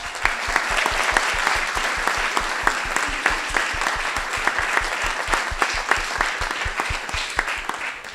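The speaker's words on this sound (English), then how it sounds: "if we could have a huge round of applause for Amelita Armit." At an alumni association annual meeting, an audience claps for an award recipient in a sustained round of applause. Individual claps ring out sharply and fairly close within a broad crowd sound.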